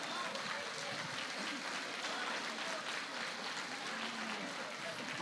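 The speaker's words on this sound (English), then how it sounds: "Please clap for him." Audience applause at an annual day event, a steady wash of clapping that holds at an even level throughout, ending in a sudden louder burst.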